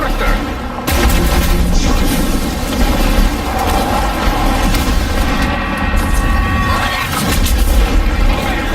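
The Hellfire Mortar fires in a first-person shooter, a run of loud booms and blasts with gunfire and rumbling explosions, and a voice speaks amid the din.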